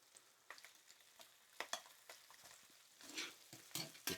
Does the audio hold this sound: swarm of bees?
no